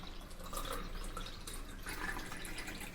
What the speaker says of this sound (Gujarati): આપણે અહીંયા પાણી પણ ઉમેરી દઈશું